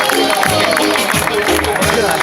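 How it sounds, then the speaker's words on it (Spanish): Spectators at the start of a 750-metre open-water swim in the port of Valencia burst into steady, dense applause and crowd noise, a broad continuous wash with a few louder claps cutting through. "¡El aplauso del público!"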